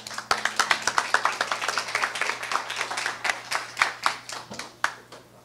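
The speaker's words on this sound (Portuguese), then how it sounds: "Por favor, Walter, uma salva de palmas." A studio audience at a 2018 Portuguese-language election interview applauds a guest with steady hand clapping, moderately close and sustained, fading out near the end.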